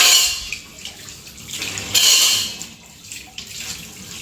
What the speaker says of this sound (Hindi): इस सिंक में क्या हो गया है कि पानी थोड़ा थोड़ा सा रुक जाता है, लेट पानी जा रहा है